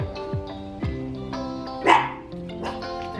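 A dog barks indoors near an open door, giving several short, sharp barks and yips spaced across a few seconds at moderate volume.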